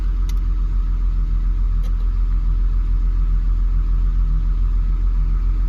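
A Toyota Supra's 7MGTE turbo engine idles steadily close by in a garage, with a constant low rumble, an even running note and no voices.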